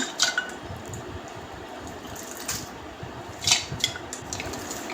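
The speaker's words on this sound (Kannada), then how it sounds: "ಇದನ್ನು ಸಣ್ಣ ಸಣ್ಣದಾಗಿ ಚೂರು ಮಾಡಿದ್ದೇನೆ ಇದನ್ನು ತೊಳೆದು ಬಟ್ಟಲಿಗೆ ಹಾಕುವ" Finely chopped banana flower is washed and tipped into a bowl. Close wet squishing and sloshing water mix with a few clinks of metal and dishes, in irregular bursts of handling with no talk.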